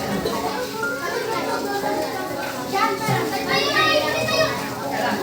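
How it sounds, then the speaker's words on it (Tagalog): Children at an elementary school play noisily, a dense chatter of many young voices shouting and laughing together, close and continuous. "Bagamat nagkakagulo ang mga bata,"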